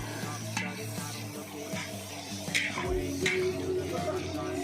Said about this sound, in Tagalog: Mix lang ng mix habang maluto ang lahat.